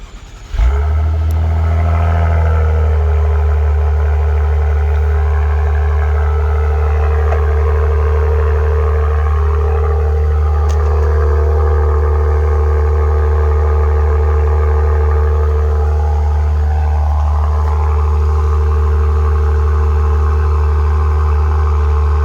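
A 2022 Acura TLX Type S AWD engine starts and settles into a loud, steady idle, with a few rising and falling revs swelling over the constant low rumble, close up and with no talk.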